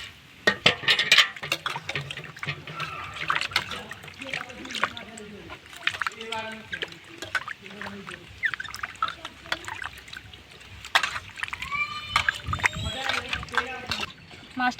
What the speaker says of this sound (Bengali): আবারও একবার জল দিয়ে ধুয়ে নিচ্ছি।